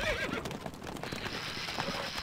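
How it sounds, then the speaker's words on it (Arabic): A horse in Stronghold Crusader HD gives a short, close whinny, then hooves and clattering noise continue briefly behind it. "الحصان سريع"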